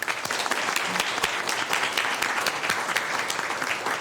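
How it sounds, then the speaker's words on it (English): A round of applause in a Sacramento cable television commission meeting room, steady crisp clapping from a modest crowd, moderately close. "Big round of applause for Kristen"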